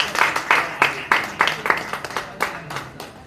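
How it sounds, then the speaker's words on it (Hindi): An audience at a Neurotherapy Day press conference claps steadily in rhythmic bursts. Loud, close applause fills the whole stretch, with no speech over it. "तालियां बजनी चाहिए"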